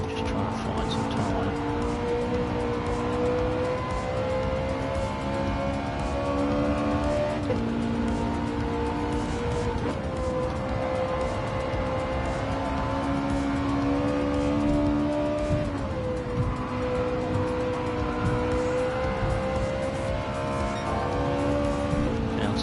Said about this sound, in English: Gonna throw the car around quite a lot here.